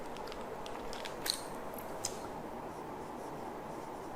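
Pen writing on paper, soft continuous scratching and scraping strokes with a couple of sharper ticks, close and fairly quiet, no talk.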